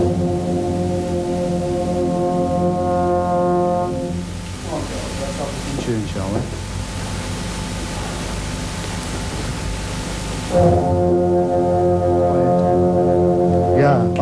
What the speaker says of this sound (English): The band is rehearsing for the national championship